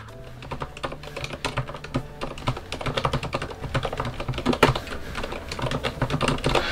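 Muffled, soft mechanical keyboard typing with silent red switches, dull, damped keystrokes tapping in quick irregular bursts, close up, no voices.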